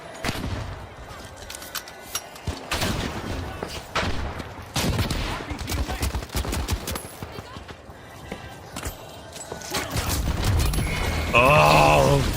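Rapid bursts of gunfire from a video game, dense clusters of sharp shots with brief gaps in between, mixed with other game sounds and a tonal effect near the end, while players talk over the action.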